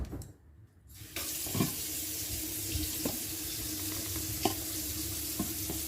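Tap water streaming steadily into a pan while cooking chicken and stove top stuffing, a continuous hiss after a brief quiet start, with occasional clinks and knocks over the flow.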